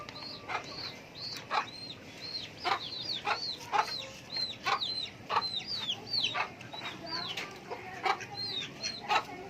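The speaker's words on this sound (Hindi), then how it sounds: "माशाल्लाह हमारा लाल मुर्गा।" A red rooster clucks repeatedly in a village setting, giving short bright calls in irregular bursts over a quiet outdoor background, moderately close.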